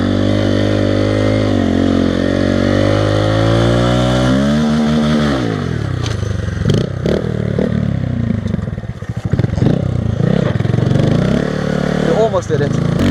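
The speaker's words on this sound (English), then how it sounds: "let's see if the Grom can do the hill climb. Grom hill climb in the snow" A Honda Grom motorcycle revs hard while climbing a snowy driveway, its engine loud and close with rising and falling pitch, clattering and scraping as it struggles for grip in the snow.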